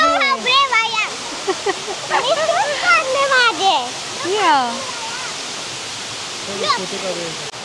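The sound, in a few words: waterfall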